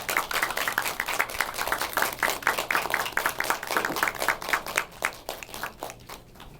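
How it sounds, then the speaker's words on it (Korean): Applause from a cinema audience welcoming two film directors and an actress at a screening Q&A, a steady patter of many hands clapping that thins out toward the end. "큰 박수로 맞아주세요"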